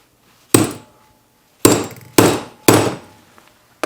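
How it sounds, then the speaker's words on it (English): Four sharp metallic hammer strikes on a center punch marking a metal rod, one then a quick group of three, each ringing briefly and decaying, close and loud. "Just center punch this."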